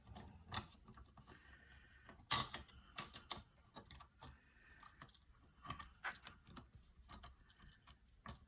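Tiny screws driven by hand into a Fanhome Robocop model kit, giving faint, close ticking and scraping clicks with a few sharper taps, quiet and intermittent.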